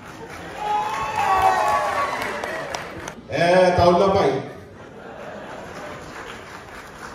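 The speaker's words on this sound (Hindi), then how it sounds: "ठीक है जी अपनी तालियों से आप बताएंगे" Crowd applause rising from an audience at a live stage event in London, a burst of clapping swelling for a few seconds under a host's talk, then fading back to chatter.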